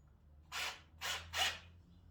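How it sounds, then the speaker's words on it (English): A screw is driven into a board of a folding table in three short, faint whirring bursts with brief pauses between, and no talk. "So I'm going to put one screw in on this board."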